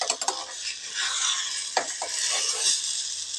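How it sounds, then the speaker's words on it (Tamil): A ladle omelette sizzles in a frying pan while a spoon gently stirs and flips it, with scraping strokes and brief metal knocks over a steady frying hiss, close and moderately loud. "மெதுவாக லேசாக கிண்டி விட்டு திருப்பி விட்டுக்கலாங்க."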